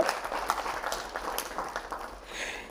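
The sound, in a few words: students applauding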